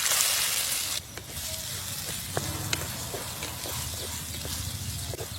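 Chopped onions sizzle and crackle in a hot pan as they fry until golden, a steady frying hiss with small pops scattered across it.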